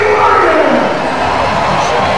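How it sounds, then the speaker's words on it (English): A boxing arena crowd roars and cheers for two heavyweight fighters after the bout, a loud, continuous wash of massed voices and clapping with no break. "A round of applause for these two heavyweight"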